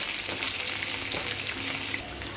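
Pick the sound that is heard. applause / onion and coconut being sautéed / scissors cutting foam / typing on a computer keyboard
onion and coconut being sautéed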